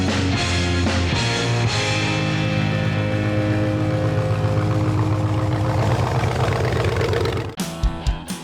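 Engine of a wacky, oddball car running loud and steady for about seven seconds with a deep, rumbling low drone and rising harmonics, then cutting off abruptly into a few short knocks.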